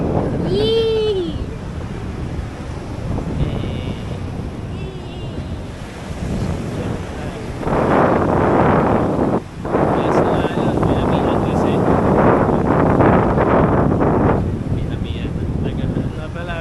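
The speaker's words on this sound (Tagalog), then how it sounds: "Taas ang hangin." Strong wind roars across the mic at Casapsapan Beach in Casiguran, Aurora, with surf washing beneath it; gusts swell loudest midway and late, and a voice calls out briefly at the start.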